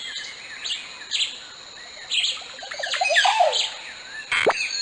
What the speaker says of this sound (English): Some say the Quetzal is the most beautiful bird in the world.